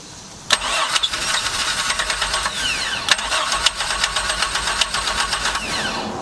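A truck V6 engine swapped into a MerCruiser ski boat cranking and catching after a rebuild, a loud sharp start followed by rough, pulsing running close by, no speech.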